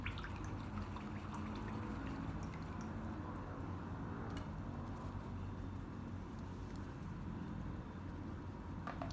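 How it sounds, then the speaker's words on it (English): A paintbrush swishes and rinses in a water cup during an acrylic painting session, soft continuous trickling and light splashing, close and quiet, with no talking. "Right, wash your brush out."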